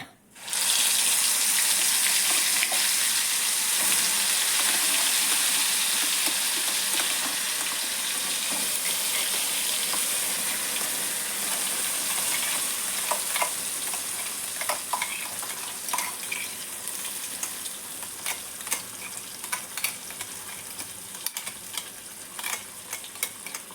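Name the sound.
onion and tomato gravy frying in a pan for matar paneer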